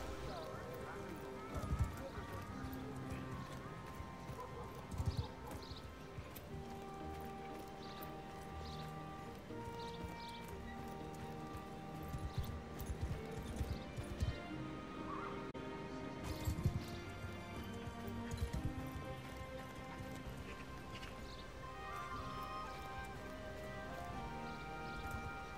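Horse galloping in Mount and Blade 2 Bannerlord, heard as quiet rhythmic hoofbeats under game music with occasional thuds, while someone talks.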